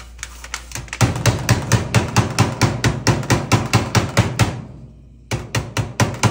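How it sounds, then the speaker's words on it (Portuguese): Rapid, steady hammer blows ring out on stainless Damascus steel, about three per second, close and loud, pausing briefly before resuming. "Vai martelar."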